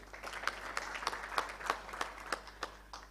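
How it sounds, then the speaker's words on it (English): A conference audience at the East African Petroleum Pre-Conference gives a brief round of applause for a presenter, with steady, moderately close clapping throughout. "A very big clap to him once again."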